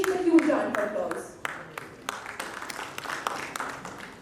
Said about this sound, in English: Let's welcome him to the stage with a huge round of applause.